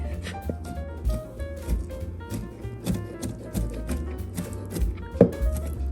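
A knife trimming fat from pork meat on a board for Filipino pancit bihon, giving irregular close thumps and cuts spread across several seconds, with faint background hum and no talking.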